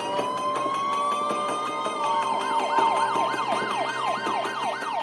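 Multiple emergency vehicles respond to a chaotic shooting scene: a steady rising siren tone gives way to rapid, repeating wail sweeps, loud and fairly close, with no talk over it.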